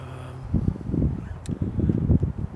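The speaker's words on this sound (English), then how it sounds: "This is probably windy again today." Gusty wind buffets the microphone in low rumbling bursts, uneven and close, with a faint higher hiss in the background.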